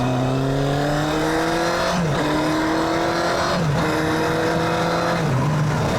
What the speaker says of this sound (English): Listen to that engine. It sounds absolutely amazing.